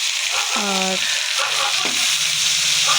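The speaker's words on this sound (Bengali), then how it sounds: "এইখানে দেখো বিমসগুলো ভেজে নিচ্ছি" Green beans fry in oil in a pan with a steady, close crackling sizzle, while short voice-like tones rise briefly over it.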